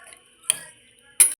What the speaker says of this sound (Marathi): तर आपण इथे त्याला झाकण लावू.